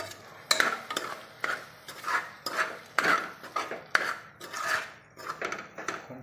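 A spoon stirs biryani masala, chilli powder and garam masala in a pot, making steady, rhythmic metallic scrapes and clanks, one stroke after another, close and fairly loud with no talking.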